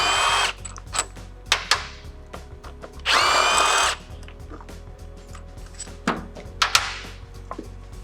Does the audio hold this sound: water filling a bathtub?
no